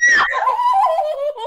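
A loud, shrill scream from a person caught by an Omegle video-chat scare bursts out at close range and trails off into shaky, breathy laughter.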